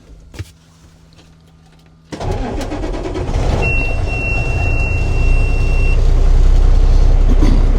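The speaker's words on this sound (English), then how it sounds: "So the next process would be is to perform a safe start on the truck." Semi tractor-trailer truck engine cranks and starts about two seconds in, then settles into a loud, steady diesel idle close by, with a faint warning beep tone briefly partway through.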